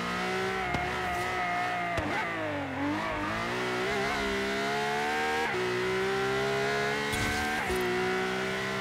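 A LaFerrari driven from the cockpit view in Forza Horizon 3 on a city circuit, its engine howling loud and continuous with rising and falling revs through gear changes, plus brief tire noise, with no talk.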